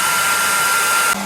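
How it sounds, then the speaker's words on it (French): A 1500-watt hair dryer runs from a Jackery Explorer 3000 V2 power station while a kettle also draws power, giving a loud, steady, close airy roar with a high whine that shifts slightly at the end. "Je mets en route maintenant le sèche-cheveux."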